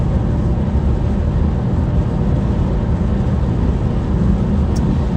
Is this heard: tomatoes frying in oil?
no